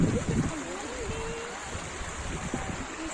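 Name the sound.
river flowing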